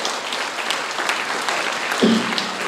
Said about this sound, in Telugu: గట్టిగా చప్పట్లు కొట్టండి మీరు అందరూ ఒకసారి.